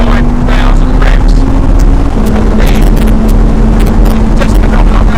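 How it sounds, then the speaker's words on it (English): An Audi R8 engine revs hard in manual mode, a loud steady drone with a rising tone, heavily buffeted by wind noise from open windows at speed. "But you can hear that engine."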